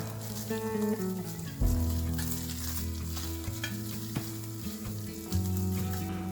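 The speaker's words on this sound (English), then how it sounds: "Break into desired size pieces and cook the sausage completely until there is no pink." Sausage pieces fry in a pan with unsalted butter, giving a steady close sizzle with bursts of stirring and scraping. A strong tonal hum and rising tones sit underneath, and no one talks.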